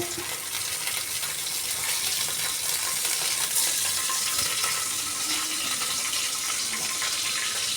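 Fenugreek seeds sizzle in hot sesame oil at the start of a murrel fish curry, a steady crackling fry with a faint stirring scrape, no one talking.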